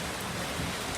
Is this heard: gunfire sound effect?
no